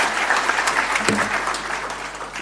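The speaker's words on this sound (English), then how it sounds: "Another round of applause to the CEO of the ARC." Audience applause for the CEO of the ARC at a corporate strategy presentation, a steady, dense wash of many hands clapping at moderate loudness without pause.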